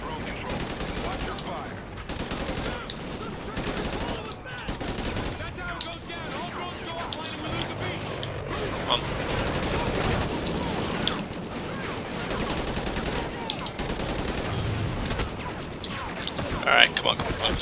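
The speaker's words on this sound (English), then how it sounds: "Who the hell is shooting at me?" Gunfire crackles through a Call of Duty: Ghosts campaign battle, with dense, repeated bursts and shots that overlap into a near-continuous volley, some close and sharp, others more distant.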